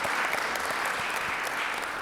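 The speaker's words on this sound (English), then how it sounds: "Let's give Christy a round of applause." A crowd at a Rotary club meeting claps steadily and evenly, a dense patter of many hands with no voices over it.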